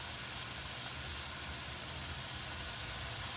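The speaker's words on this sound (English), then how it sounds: "Now, I'm going to add a little of the soy sauce." Soy sauce hitting fried rice in a hot pan, giving a steady, even sizzle like hissing static that stays at one level throughout, with no voices.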